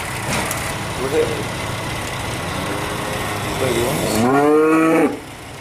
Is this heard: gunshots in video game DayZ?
no